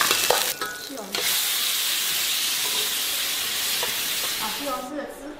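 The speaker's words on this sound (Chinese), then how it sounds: "把西红柿的汁炒出来" Tomatoes stir-fry in a wok in oil with garlic, giving a steady, close sizzling hiss with a few clanks of stirring near the start and end.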